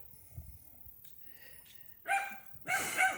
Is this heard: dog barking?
yes